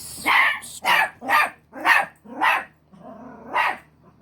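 A dog barks six times in a steady series, sharp and fairly close, with short pauses between barks and a quiet room hum underneath.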